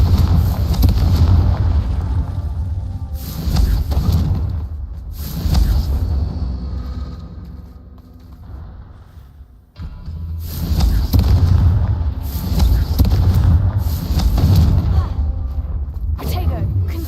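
Confringo blasting-spell explosions from Hogwarts Legacy boom again and again in heavy bursts, with a calmer stretch in the middle before the blasts start up again. A voice talks at times over the combat.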